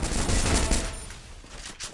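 Rapid gunfire from the Free Fire video game, played on an iPhone 12 in a championship match, crackles as a loud, dense burst of overlapping shots, then thins to a rougher, quieter rattle.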